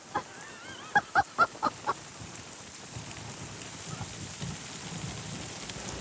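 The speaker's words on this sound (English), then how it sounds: "Ah, it's hailing." Steady patter of hail on a surface, with a quick series of five sharp honking calls early on over the constant hiss.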